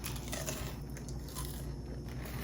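A bite into crunchy beer-battered cod gives a quiet, close crunch with a few crisp crackles over low background hiss.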